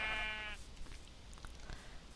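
A sheep bleats once, a short wavering cry heard up close in a video game world, followed by quiet ambient clicks and rustles.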